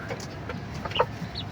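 Chickens on a small poultry farm cluck in a few short bursts, with one sharper call near the middle, over a steady low background hum.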